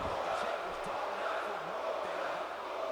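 Crowd in the WWE 2K18 wrestling video game, a steady broad roar of massed voices from an arena audience, continuous throughout under faint other sounds, with no distinct chant rhythm standing out.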